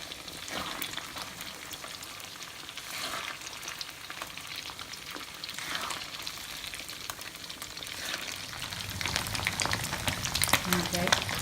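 Steady crackling sizzle of chicken frying in hot oil, a dense bubbling hiss that grows slightly louder toward the end, with no talking.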